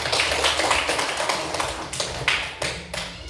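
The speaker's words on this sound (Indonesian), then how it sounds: "Ayo, kasih aplaus" Classroom applause for students Anto and Ola, a burst of many hands clapping close by in a dense, uneven patter that keeps going for a few seconds, with no voices over it.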